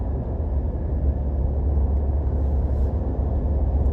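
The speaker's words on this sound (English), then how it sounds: "Now, when it runs out, it's gonna run really rough. It's gonna go and then finally die." A portable gasoline generator running rough as its fuel runs out gives a close, low, uneven rumble that holds throughout without voices.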